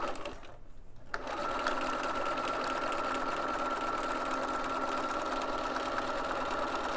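A sewing machine stitching fabric for a slip-on head cover runs in a fast, even, continuous hum close by after a brief pause at the start.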